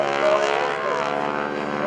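A large propeller airplane roars steadily overhead at the 2011 AirPower Over Hampton Roads air show, a loud, sustained engine drone with a whining propeller tone.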